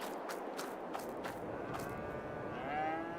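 Cattle in Farming Simulator 22 on the Big Flats Texas map low and moo continuously across a herd, with several overlapping calls and one longer drawn-out moo near the end, all steady and fairly close.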